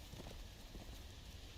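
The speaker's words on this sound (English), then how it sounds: "There goes the horse." Horse hooves clip-clop along a road in the Game of Thrones Telltale video game, a quiet, muffled rhythmic trotting set under a steady background hiss.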